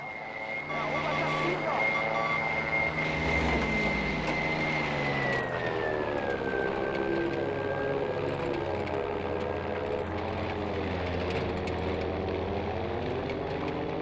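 A World War II fighter plane engine in Battlefield V drones loudly and steadily for about fourteen seconds, its pitch sliding lower partway through as the aircraft manoeuvres, with a voice talking faintly over it.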